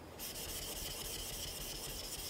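Steady rubbing rasp of a Japanese knife blade being polished on a King Hyper 2000 grit synthetic whetstone, a continuous close scraping that runs without pause and with no talking.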